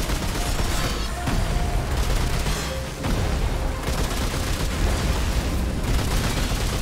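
Bomb explosions from the Annihilation boss fight in the game Remnant 2, a continuous, loud roar of blasts and rumbling barrage with a brief dip near the middle.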